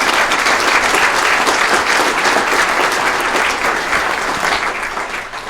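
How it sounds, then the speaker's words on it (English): Banquet audience at a rural education awards dinner applauding the honorees, a loud, sustained, even round of clapping that fades slightly at the end. "Let's give them a great round of applause."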